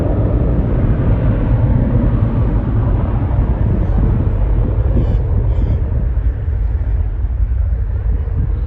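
A Qantas jet airliner at full throttle on its takeoff roll at Auckland International Airport, a loud, steady, broadband engine roar that stays close and constant throughout.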